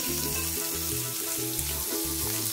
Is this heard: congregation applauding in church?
no